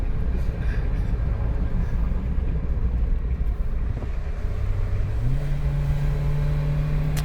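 Steady loud engine drone from a vehicle cruising at about 80 on a Spiti mountain drive, with heavy road and wind rumble and a rising tone near the end.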